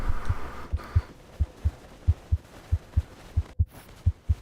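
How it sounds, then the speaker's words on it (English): In the video game Dome Keeper, a deep, muffled heartbeat thumps steadily in regular paired beats, loud and close over a low ambient hum. "Hear the heartbeat."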